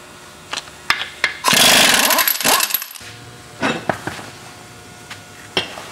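Front wheel being pulled off a vehicle during a coil spring install: scattered metallic clanks and knocks, then a loud burst of ratcheting tool noise near the middle, with more clunks afterward, close up and without talk.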